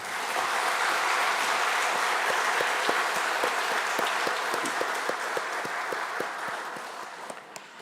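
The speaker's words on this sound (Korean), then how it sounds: "기쁨이면 박수 한번 보내십시오" Church congregation at an intergenerational worship service applauding together, a sustained, dense wash of clapping that stays loud and steady throughout, with no talk over it.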